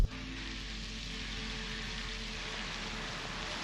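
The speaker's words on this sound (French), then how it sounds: "il commence à pleuvoir assez fort" Heavy rain pours down in a dense, steady hiss, with constant patter on surfaces and no voices.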